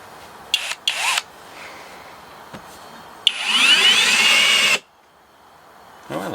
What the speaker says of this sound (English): Let's drill some stuff and screw some stuff